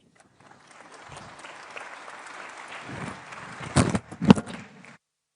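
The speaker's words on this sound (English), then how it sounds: "Another round of applause" An audience at a defence forum breaks into applause, a steady wash of clapping from a crowd that swells and ends with a few louder close claps before fading out, with no speech over it.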